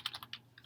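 Quick typing on a computer keyboard while entering an SMTP server address during scan-to-email setup on a Konica Minolta copier, a handful of light, close key clicks in an uneven burst.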